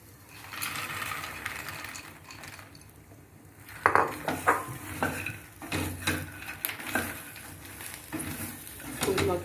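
Lotus seeds (makhana) stirred in a pan with a metal spoon, faint sizzling at first, then repeated scraping and clattering strokes that grow louder, close up and without talk.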